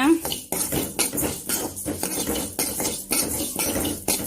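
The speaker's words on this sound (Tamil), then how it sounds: "அரிசி சேர்த்துட்டு நல்லா வறுத்து விட்டுக்கணுங்க நல்லா வறுக்கணுங்க" Rice dry-roasting in a pan for egg curry, stirred in brisk, regular scraping strokes about twice a second, each a gritty metallic rasp close to the listener.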